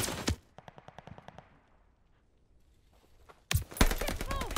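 Bursts of rapid automatic gunfire crackle in a Call of Duty: Vanguard multiplayer match, a loud volley and a quicker rattling string, then a lull before more heavy shots erupt; a distant voice briefly shouts among the firing.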